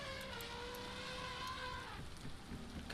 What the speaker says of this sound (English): Gosh, I love just smithing in the rain in this game.